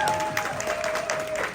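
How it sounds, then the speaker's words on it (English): A crowd at a charity auction during the Ponyville Ciderfest convention gives a brief burst of applause, many hands clapping at once, with a faint steady tone running underneath. "huge round of applause for Chimera"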